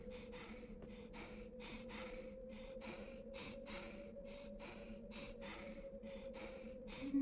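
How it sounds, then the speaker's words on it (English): A small ghost child pants in the PS2 game Ghosthunter, giving quick rhythmic breaths, about twenty in a row, in an even steady pattern over a low constant game hum. "You can hear her panting."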